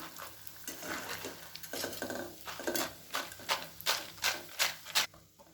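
Crispy rice snacks deep-frying in hot oil, with a bubbling sizzle and a run of rhythmic scraping and clinking strokes from a metal ladle against the pan, close by, growing steadier and louder toward the end, no voices.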